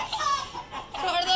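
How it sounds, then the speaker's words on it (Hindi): A hen clucks in short, agitated bursts while a dog chases her. The clucking is close and fairly loud across a brief moment, with no talking. "अभी आते टेंगो ना इसकी मुर्गी के पीछे भागा"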